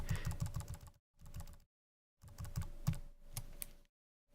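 Rapid computer keyboard key presses in two bursts separated by short silences, close and crisp, with no talking.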